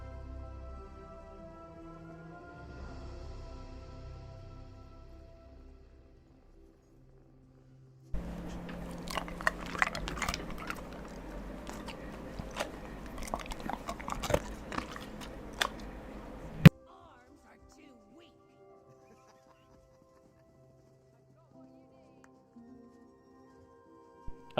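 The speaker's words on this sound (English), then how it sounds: "this is the dog having her crunchy treat" A dog crunches a hard treat, with a dense run of close, sharp bites and crackling chews lasting several seconds between quieter stretches of background tones.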